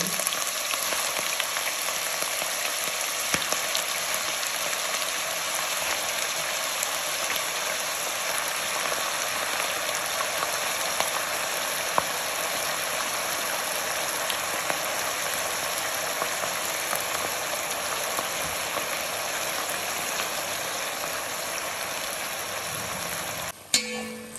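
Calamari with golden brown garlic sizzles in hot oil in a pan, a loud, steady, close hiss that runs unbroken for over twenty seconds and ends with a brief clatter.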